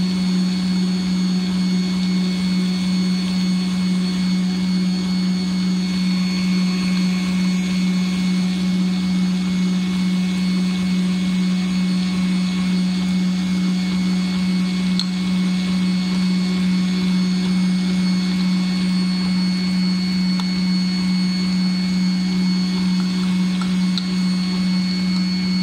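A blender with its lid on whips cream and sugar in a loud, unbroken motor whine with a strong steady hum that holds for the whole stretch without easing, and no one talks over it.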